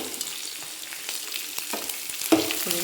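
Dried chilli, lentils, garlic and onion fry in a hot pan, a steady close crackling sizzle with small pops and a few scrapes of stirring, no voices.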